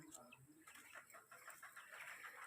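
Soft chicken clucking close by, a few scattered low clucks over quiet rustling background.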